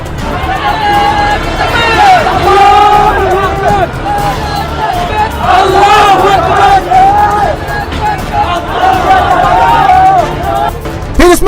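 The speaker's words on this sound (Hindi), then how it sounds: "बड़ी संख्या में जिहादी पहुंचे और पहले नाराए तकबीर की नारेबाजी की" A large crowd outside the Prothom Alo newspaper office in Dhaka chants Nara-e-Takbir slogans: a dense, loud roar of many raised voices that carries on without a break.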